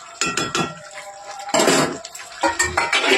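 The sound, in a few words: stirring spinach and fish-head curry in a pan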